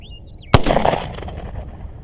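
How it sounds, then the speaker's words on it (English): One loud, close gunshot from a C96 Mauser pistol cracks sharply, then a short rattling echo fades away, with no talking. "we're shooting about 10 feet high"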